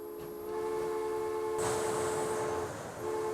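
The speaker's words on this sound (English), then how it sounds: "my coal and passenger trains are now all underway of delivering these supplies" Coal and passenger trains running in the railway-building game Transport Fever 2 give a steady mechanical rumble with sustained tonal hums, a brief hissing burst partway through, and a faint high whistle-like tone, with no voices.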